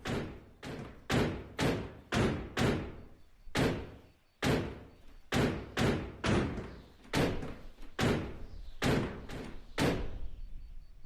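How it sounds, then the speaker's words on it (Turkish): Tinny metal car doors in The Long Drive slamming shut over and over, about fifteen hard bangs in a quick, uneven rhythm, each a loud close thud with a ringing clank, with no talk. "Teneke sesi çıkıyor arkadaşlar kapıdan."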